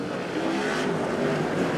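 Non-wing sprint cars race on a dirt oval at an ASCS main event, their engines a loud, continuous blended roar with a steady drone and no clear single pass.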